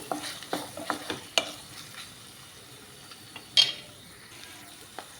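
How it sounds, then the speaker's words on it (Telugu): Ginger paste and green peas frying in a pan while being stirred: a soft sizzle with quick scraping spoon strokes in a burst at the start, then sparser taps and one louder scrape, close and no one speaking. "కొద్దిగానే పచ్చివాసన పోయే వరకు బాగా వేయించుకోవాలండి."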